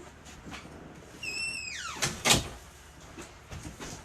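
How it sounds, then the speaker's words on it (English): Indoor door being shut, a soft rustle and brief squeaking slide followed by a solid closing thud and a few light knocks afterward, fairly quiet and close. "Let me close this door."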